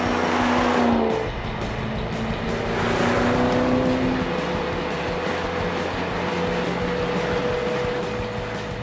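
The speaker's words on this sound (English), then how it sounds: "I really do dig the exhaust" A Chip Foose-designed Ford Mustang GT on new tyres drives down a road, its exhaust a loud, close, steady engine drone whose pitch climbs and shifts as the car accelerates and eases off.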